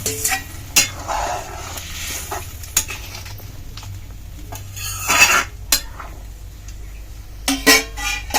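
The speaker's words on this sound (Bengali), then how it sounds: "এবার বড়া, ভেজে রাখা বড়াগুলো দিয়ে দিব" Fried egg fritters are dropped into a boiling curry in a pan, giving loud clatters of a utensil against metal and splashing thuds over a steady bubbling simmer.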